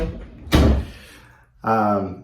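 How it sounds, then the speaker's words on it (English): A household door shuts on a snowy day with one sharp, close thud followed by a brief rattle, then a voice speaks right after. "close the door for me."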